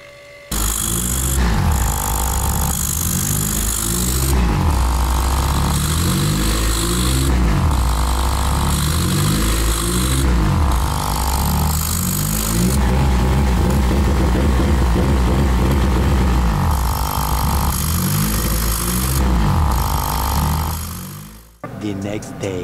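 A Honda K24 engine fitted with a short tailpipe runs loud and close, revving up and dropping back again and again in a repeating rhythm.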